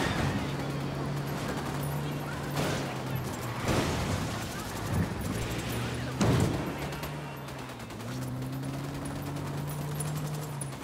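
Gunfire crackles in Ghost Recon Wildlands as bursts of shots ring out over a steady engine drone, fairly distant and mid-level, with a few sharper reports standing out.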